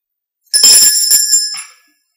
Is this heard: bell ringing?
yes